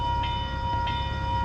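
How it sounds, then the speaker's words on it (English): Columbus Zoo train ride, a steady rumbling rail-car drone with a sustained tonal hum and two brief squealing accents, no voices. "it was time to ride the Columbus Zoo's train"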